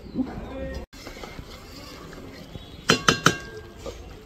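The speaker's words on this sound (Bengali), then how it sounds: "আমি ঢাকনাটা খুলে আপনাদেরকে দেখাচ্ছি" A metal lid comes off a pot of bhetki fish-bone curry with a short cluster of bright clinks and rattles, close and fairly loud against a quiet kitchen background.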